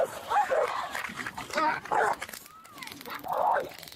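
A dog barks and yips in short bursts, close by, with whimpering between, while people talk and shout over it.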